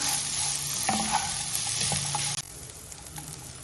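Grated coconut and cashews roast in a pan with a steady sizzle and a few scraping stirs, then the sound drops abruptly to a quieter hiss partway through.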